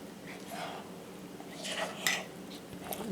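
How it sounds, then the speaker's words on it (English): A spoon stirs sourdough starter in a bowl, making a few soft scraping clinks and light wet mixing sounds at close range, with a voice murmuring faintly in the background. "You stir your sourdough starter to mix it together."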